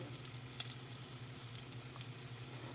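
Onions sauté with salt in a pan for a Kerala-style sardine curry, a soft steady sizzle with faint scattered pops and light crackles, fairly quiet and without talk.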